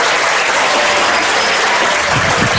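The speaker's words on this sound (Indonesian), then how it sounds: "Boleh tepuk tangan buat Ustaz Selamat." Dense applause from an audience at an Islamic religious lecture, steady and loud throughout, with no talk over it.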